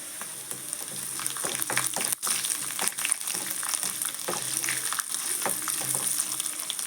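Mustard seeds and cut dried red chillies sizzle and crackle in hot oil, tempering for a Kerala-style bilimbi curry; a steady close frying hiss carries irregular pops and spatters throughout.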